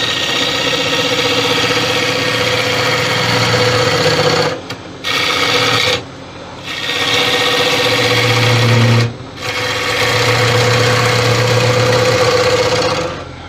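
Wood lathe hollowing a monkey puzzle wood vase, a loud steady tonal whirr with a tool cutting, dropping away briefly three times as the cut pauses, then resuming.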